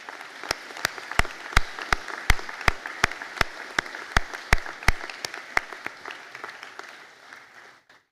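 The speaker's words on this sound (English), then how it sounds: "to be standing for a round of applause from everybody" Audience applause for graduates at a conferring ceremony, with many sharp individual claps standing out over a steady wash of clapping that fades toward the end.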